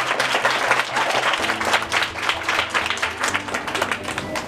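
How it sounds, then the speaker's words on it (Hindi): Schoolchildren applaud at a school quiz event, dense clapping that stays loud and continuous throughout with a faint hum of background noise. "तालियां बजाएं।"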